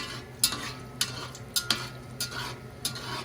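An alcapurria made with yuca fries in hot oil, giving a steady close sizzle broken by several sharp scraping, stirring clicks of a utensil against the pan.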